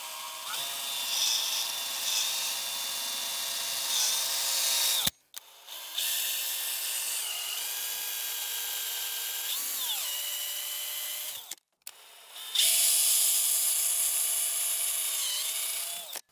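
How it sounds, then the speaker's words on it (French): An electric drill bores dowel holes into a wooden board in three close bursts, each a steady high whine with pitch sagging under load, separated by short pauses, with no voices. "j'ai juste tout simplement à venir percer directement sur les 3 trous qu'on a marqués"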